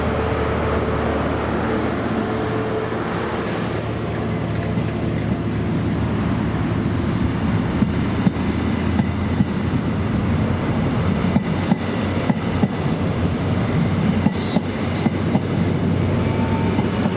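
A ScotRail Edinburgh to Inverness service led by power cars 43181 and 43141 rumbles past close by, a loud continuous roar with rhythmic wheel clicks over rail joints throughout.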